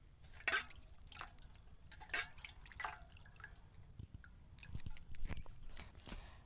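A large eggplant being rinsed in water before slicing for beguni fritters: faint, intermittent splashes and drips in short bursts, close by, with no talk.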